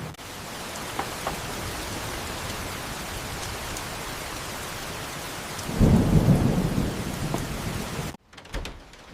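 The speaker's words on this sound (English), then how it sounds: "By afternoon, Eleanor was driving through a relentless downpour to Nora Bell's secluded cottage." Heavy rain pours steadily with a deep roll of thunder rumbling partway through, before the sound abruptly drops away.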